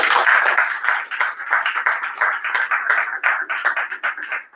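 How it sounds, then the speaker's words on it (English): A room at a school board meeting applauds students with brisk, crisp clapping from a modest crowd, close and continuous for several seconds before tapering off. "How about a round of applause for our students?"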